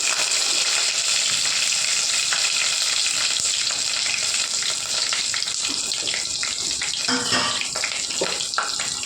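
Garlic and dried red chillies frying in oil for gongura dal, a loud, dense, continuous sizzle and crackle with bubbling pops throughout, heard up close and alone.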